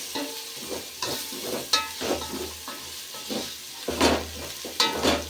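Biryani masala spice mix frying briefly in a pan for bagara rice, a steady sizzle with repeated stirring and scraping strokes, close and moderately loud, with no talking.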